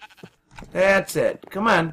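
Sheep in the video game Minecraft bleat in a few drawn-out, wavering cries close by, alternating with a man's short spoken remarks.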